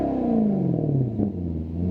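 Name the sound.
Maserati V8 engine exhaust revving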